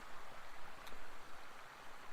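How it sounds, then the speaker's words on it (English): A small stream flows near snowy mine dumps on a foggy winter day, a steady soft rushing of water heard from a short distance with no talk. "like little rivers and streams that are flowing through around near the mine dumps and things"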